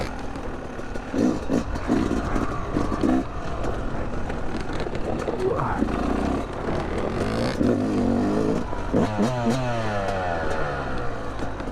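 A two-stroke dirt bike, a KTM TPI or Yamaha YZ250X, revs hard while being ridden. The engine note is loud and close and rises and falls steadily across the whole stretch, with a brief rider whoop near the end.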